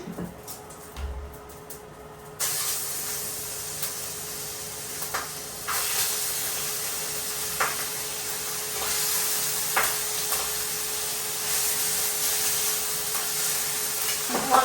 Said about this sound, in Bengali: এখন মাছটা ভেজে নিতে আসি।